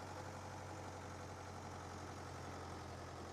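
Diesel the shunter from Thomas & Friends runs a diesel engine that idles steadily throughout, a continuous low rumble with a faint knocking pulse, close and unchanging.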